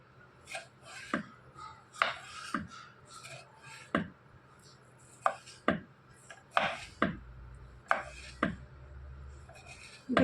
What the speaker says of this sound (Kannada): ಈಗ ನಾ ಉಳ್ಳಾಗಡ್ಡಿ ಹೊಳ್ಕೊಂಡೇನಿ ರೀ, ಟೊಮ್ಯಾಟೊ, ಕೊತ್ತಂಬರಿ ಎಲ್ಲ ಹೊಳ್ಕೊಳತ್ತೀನಿ ರೀ